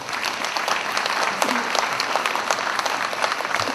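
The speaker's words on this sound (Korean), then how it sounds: "특별히 좀 뜨거운 박수 주셨습니다." A crowd at a book concert claps steadily and loudly for several seconds, a dense patter of many hands that cuts off abruptly at the end.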